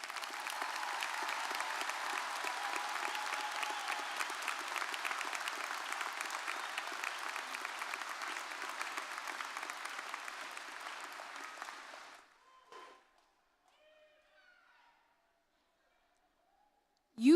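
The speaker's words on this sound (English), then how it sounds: "Let's give them a round of applause." Applause for parents at a 2023 Wellington High School graduation, a broad, steady roar of clapping from a large crowd for about twelve seconds that cuts off abruptly, leaving faint scattered sounds.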